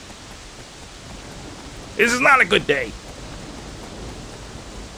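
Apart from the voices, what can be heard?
rain falling in Sleeping Dogs video game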